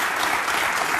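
Enthusiastic clapping from a studio audience on a political talk-show panel, a brief, dense burst of many hands heard loud and close with no voices.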